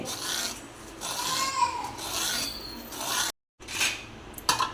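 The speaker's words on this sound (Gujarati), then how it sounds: "જો આપણે છાલ ઉતારી નાખી છે, હવે આપણે છીણી લેવાની છે।" Peeled bottle gourd (dudhi) for parathas is rubbed against a hand grater in steady, rhythmic rasping strokes, loud and close, with a brief pause before the grating resumes.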